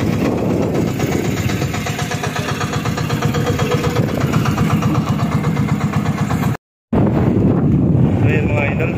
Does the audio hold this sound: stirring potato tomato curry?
no